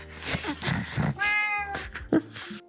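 A cat meows a few times close by, drawn-out and tonal, with short pauses between calls.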